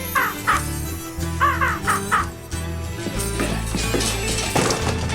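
A crow caws several times in short, harsh bursts during the first two seconds or so, fairly close and clear, over a steady bed of background music that carries on alone afterward.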